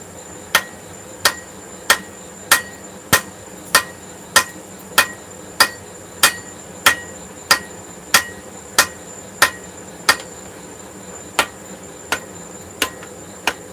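A hammer striking hot metal at a forge to consolidate a chunk, about twenty sharp, evenly spaced ringing blows roughly every 0.6 seconds, close and loud over a steady background hum.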